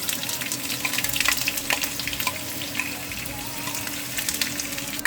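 Crushed garlic sizzling as it goes into a hot pan of spices, a steady frying hiss with crackles and small pops all through, close and moderately loud.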